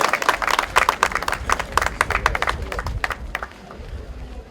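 At the closing ceremony of a shooting tournament, a modest crowd claps for shooting champion Malek: crisp, distinct hand claps in a busy run that thins and tapers toward the end.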